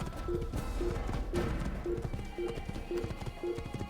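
Horse galloping in the video game Assassin's Creed: regular, evenly spaced hoofbeats with a soft whinnying tone, steady and close over a busy game background.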